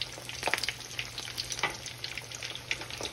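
Bread frying in a pan and being turned over, a steady sizzle broken by a few soft clatters and scrapes as the pieces are flipped and moved.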